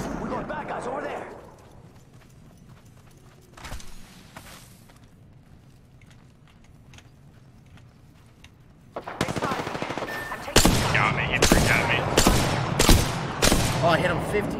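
Automatic weapon fire in the video game Apex Legends, bursts and rapid volleys of gunshots crackling loudly in the second half after a quieter stretch, with players talking over the action.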